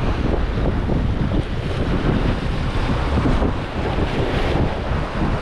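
Strong sea wind buffets the microphone on a rocky shore during cast net fishing near Mumbai, a loud continuous rumbling roar with surf mixed in, steady throughout and no voices.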